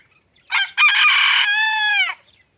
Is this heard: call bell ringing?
no